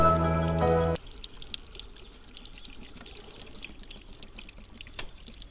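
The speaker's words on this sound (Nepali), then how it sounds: "पानी यसरी हाल्नु पऱ्यो यसलाई" Water trickles and drips over a Bullet motorbike's brake disc, a faint steady splashing with scattered drips, following a short loud tonal sound at the start.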